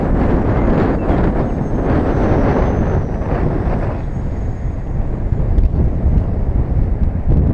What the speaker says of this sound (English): It's just really windy